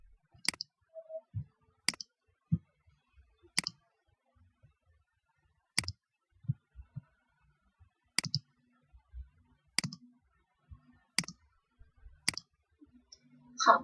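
A computer mouse clicks about nine times at a slow, uneven pace in a quiet room, each click sharp and close, with faint soft handling noises between them.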